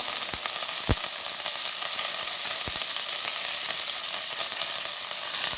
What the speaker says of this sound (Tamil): கருவேப்பிலை போடலாம்.